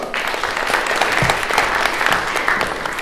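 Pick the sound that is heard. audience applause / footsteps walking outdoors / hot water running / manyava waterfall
audience applause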